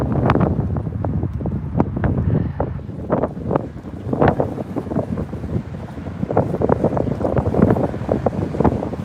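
Wind gusts hit the microphone outdoors on a dog walk, steady rough rumbling with irregular bursts throughout, no clear talk.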